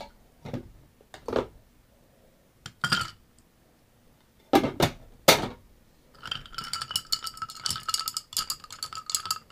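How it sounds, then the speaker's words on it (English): Ice clinking and rattling against glass as a moonshine tea cocktail is stirred, scattered knocks at first, then a steady busy tinkle of ice cubes in the final seconds, close and fairly quiet. "Just want to give that a stir"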